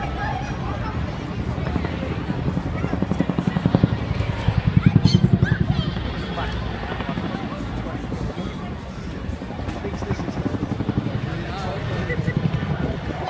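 An RAF Chinook twin-rotor helicopter flies its display at the 2014 Eastbourne Airshow, its rotors beating with a steady, rhythmic thudding that swells and fades. An announcer talks over the noise throughout.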